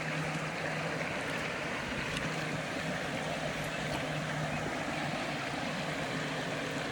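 A creek flows in a continuous, broadband rush of moving water, steady and fairly soft, with no voices over it.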